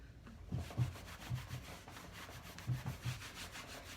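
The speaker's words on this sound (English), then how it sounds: "I'm just going to lightly wax it off. Not wax it off, rub it off." A rag rubs coloured wax over chalk-painted furniture in soft, quiet strokes, a faint scuffing that swells and fades in an uneven rhythm.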